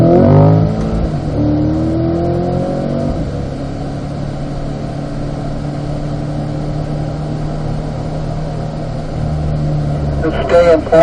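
A car engine drones steadily on a race track at Spring Mountain, pulling through the gears with a brief rev change early on, while someone speaks over the sustained motor hum.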